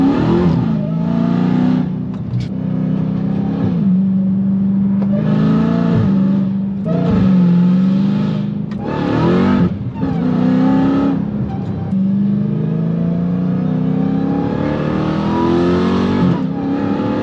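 A Dodge Hellcat with a stock engine, an aftermarket intake and a Valvetronic Designs universal muffler exhaust revs loudly and close by, its deep engine note swelling and falling in repeated sustained pulls.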